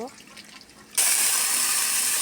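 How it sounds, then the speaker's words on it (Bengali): Water pours into spices in a wok for a pigeon curry, beginning abruptly partway through as a loud, steady close rush after a quieter start. "এখন মশলার মধ্যে পানি দিয়ে নিব"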